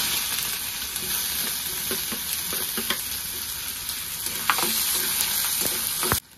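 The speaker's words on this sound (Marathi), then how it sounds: "आता आपल्याला अगोदर कांदा तळून घ्यायचा।" Onion fries in hot oil after a tempering of cumin and mustard seeds, a dense steady sizzle with scattered spatters and crackles, close up, running until a sudden cut at the end.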